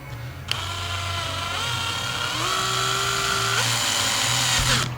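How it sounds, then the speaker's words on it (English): A power drill bores a hole through a piece of wood while fitting speakers into an Audi A4, its motor whine rising in pitch and holding steady for several seconds, loud and close, with no talking. "drill that center hole and then straight down"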